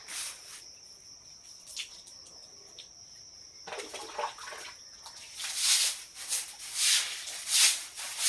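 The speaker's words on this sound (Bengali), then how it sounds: "পুরো দুয়ার আমার ধোয়া হয়ে গেল।" Water is splashed and swept across a porch floor during washing, with bursts of splashing and scrubbing growing louder in the second half over a steady background of insects chirping.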